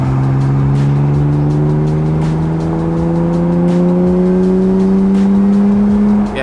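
A 20-year-old BMW engine revs and accelerates in a steady rising drone, the pitch climbing smoothly and holding loud and close throughout with no talk.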